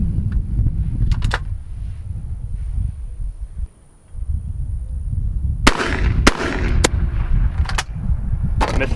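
A shotgun fires at clay targets on an outdoor quail course, with several sharp, loud reports over wind and rumbling background noise, including a close pair of shots from both barrels.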